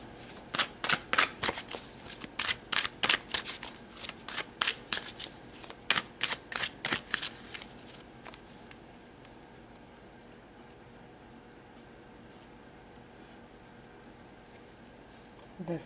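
Tarot cards being shuffled by hand, a run of quick riffling bursts in an uneven rhythm for about seven seconds, close and crisp, then fading to quiet room tone.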